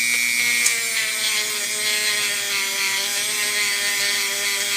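A metal surface is polished with a powered tool at higher speed, giving a steady high-pitched whine and hiss with a constant tone that runs unbroken for several seconds, moderately loud and alone.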